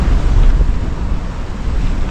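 Strong wind and messy, choppy waves at sea while sailing off Japan in fog, big seas and winds near 40 knots; a loud, steady roaring rush dominated by low rumble and buffeting microphone wind, with no voices.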